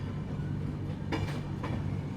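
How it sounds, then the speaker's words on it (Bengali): The Howrah–New Delhi Rajdhani Express pulls into Asansol station with a steady low rumble of rolling cars. A couple of faint rail clacks or squeals rise briefly above the continuous drone, heard from inside the train. "আমাদের ট্রেন আসানসোলে ঢুকছে"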